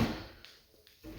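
Drawer in a bathroom of an abandoned mansion pulled open with a short scrape, then quiet with a couple of faint knocks, close by.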